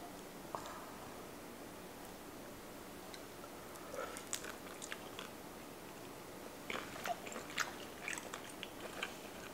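Someone eats shrimp cocktail close to the mic, with soft scattered bites and chewing clicks over a quiet room, growing busier toward the end.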